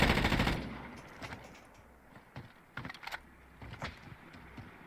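Gunfire from the Call of Duty Warzone video game: a loud burst at the start, then scattered sharp shots and clattering bursts of mid loudness, with no one talking.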